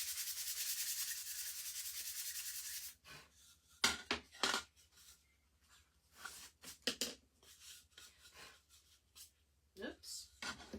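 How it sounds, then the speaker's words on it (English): Hand sanding of a painted wood sign with 400 grit sandpaper: a steady close rasping scrub for about three seconds, then quieter scattered rubbing and tapping strokes of varying strength. "I just like to lightly go over my backgrounds. Just smooth them out. This is 400 grit."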